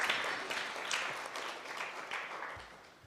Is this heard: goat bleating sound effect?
no